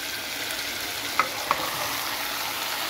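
Cucumber pieces stirred and fried with mutton in a pan for a curry, a steady soft sizzle filling the clip with two brief ladle clinks near the middle.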